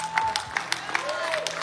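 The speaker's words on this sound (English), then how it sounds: "Y'all clapping, but you don't understand." Brief scattered clapping from a church leadership conference audience, a handful of distinct claps over a murmuring room with some voice present.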